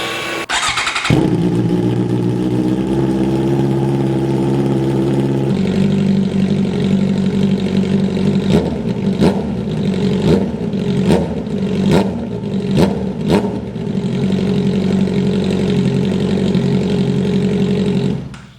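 A Honda CB650R E-Clutch motorcycle with an aftermarket Excel exhaust starts and idles with a deep throaty exhaust note, then several sharp revs blip up and fall back, loud and close.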